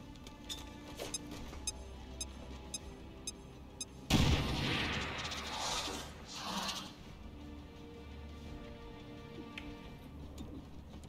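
A frag grenade goes off in the video game XCOM: Chimera Squad, a single loud, sudden burst with a rumbling tail that fades over about two seconds, after quiet ambience with faint ticking.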